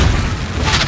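A Confringo fire spell detonates in the Hogwarts Legacy video game, one loud deep boom that fills the brief moment with heavy low rumble, close and alone.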